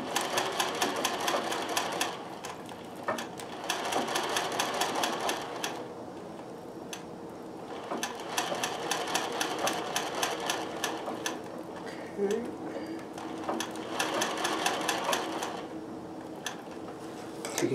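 Embroidery stitching on a sewing machine, with metallic thread, sounds as rapid mechanical clatter in several bursts of a few seconds each, separated by short pauses, at close range and moderately quiet, with light talk in between.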